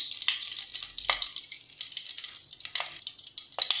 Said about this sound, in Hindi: अब हम सेम कढ़ाई में दो चम्मच घी डालेंगे।